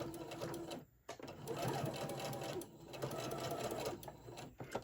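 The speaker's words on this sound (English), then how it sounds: "I'm just going to sew a seam up this side. Back stitch." A sewing machine stitching a back-stitch seam up the side of a handmade bear's body, running in quick mechanical bursts with brief pauses, close and fairly quiet.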